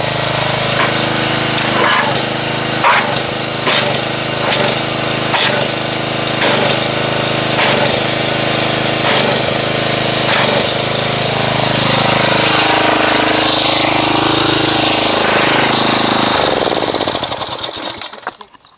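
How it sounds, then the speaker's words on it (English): A pressure washer foaming a hybrid car wash soap mixture of Armor All Wash n Wax and Meguiars Gold Class, running loud and steady with a pulsing motor drone and spray hiss for most of the time before cutting off near the end. "But let's go ahead and get the pressure washer and"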